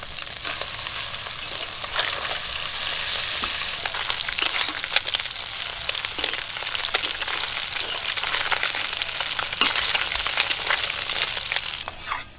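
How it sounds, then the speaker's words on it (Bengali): Flipped fish frying in hot oil, a dense, steady sizzle with crackling spatter and occasional scraping, loud and close throughout, no voices. "মাছগুলো এক পিট করে ভাজা হয়ে গেছে,"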